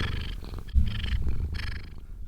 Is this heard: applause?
no